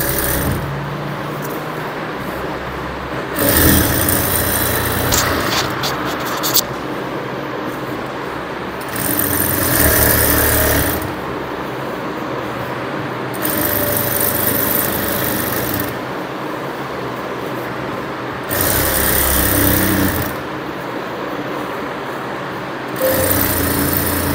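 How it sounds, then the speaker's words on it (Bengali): An electric sewing machine runs a double line of stitching on a Patiala pajama, whirring in several short bursts with pauses between them, close and steady, with no talk. "এখানে আমি একটা ডাবল সেলাই দিয়ে নেব।"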